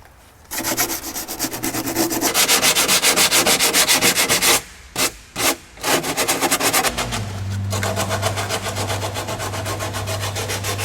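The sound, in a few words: sanding rusty car body with 80 grit sandpaper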